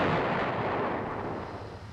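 An M551 Sheridan armored reconnaissance airborne assault vehicle fires its main gun in a single loud, heavy blast that rolls off into a long, fading rumble, with no talk over it.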